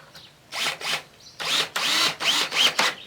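Power drill driving a screw into wood while a workbench is assembled, in several whirring bursts of varying length separated by short pauses, close and loud with no talk.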